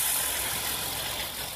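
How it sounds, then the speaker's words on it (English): A steady, low idle from a 2010 Jeep Wrangler Unlimited Rubicon engine hums close by with a faint rattle, brief and unchanging. "let's go back to the engine here and hear it hum along."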